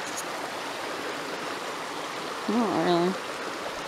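A small mountain creek rushes steadily in the foreground, and a person speaks briefly over the running water near the end.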